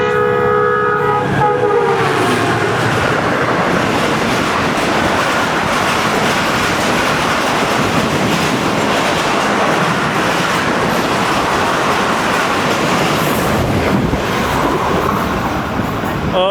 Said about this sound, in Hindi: कराकरम एक्सप्रेस पहले पहुंच गई 100 किलोमीटर्स 100 किलोमीटर्स की स्पीड से।